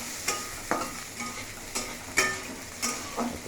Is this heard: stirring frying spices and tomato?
yes